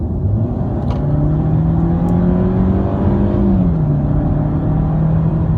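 A Mercedes C180 W204 fitted with a RaceChip unit accelerates from a rolling start at 30 mph, its engine drone rising steadily in pitch, easing briefly at a gear change and pulling on, loud and close throughout.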